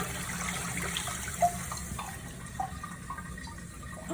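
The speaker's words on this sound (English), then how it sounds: "Now I'm gonna flush." A toilet with a newly installed FluidMaster 400A fill valve flushes and refills, giving a faint, distant trickle and gurgle of water with a few small splashes and knocks.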